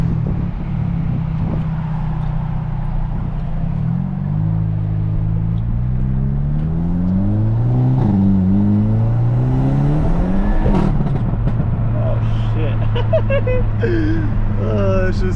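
Car fitted with a 54mm hybrid turbo on its first hard run after a tune, engine loudly revving and climbing through rising, shifting pitch sweeps, steady and close throughout.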